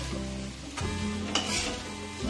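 Bharangi bhaji stirred in a pan over a low flame, a soft scraping stir with a steady gentle sizzle and a couple of brief utensil knocks, close and alone.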